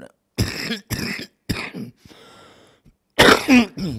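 A person coughs repeatedly in harsh bursts during a church service, pausing with a raspy breath before a final loud fit of coughing.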